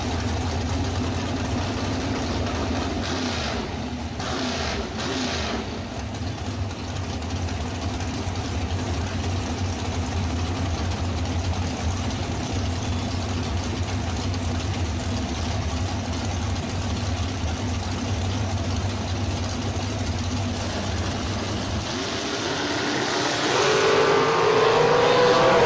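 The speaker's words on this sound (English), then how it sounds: "His Race Tech Dragster looking for a 477." A Race Tech dragster's engine idles at a drag strip, a loud steady low rumble that holds evenly near the mic before swelling slightly louder toward the end.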